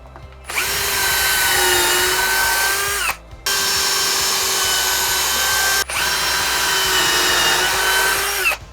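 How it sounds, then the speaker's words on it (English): A power drill whirs in three long bursts with short pauses between, loud and close, boring pilot holes into the oak wood of an old whiskey barrel. "I'm going to use the drill again to start making some pilot holes"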